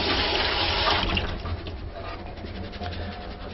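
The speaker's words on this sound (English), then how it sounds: "Give it a nice little rinse to wash off any excess starch." Tap water runs hard into a sink as cooked cracked wheat is rinsed in a strainer, a loud steady rush that eases into softer splashing and draining.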